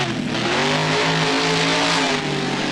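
A monster truck in BeamNG roaring through a freestyle run at Soldier Field, its engine revving loud and steady with a strong droning tone that rises and falls slightly.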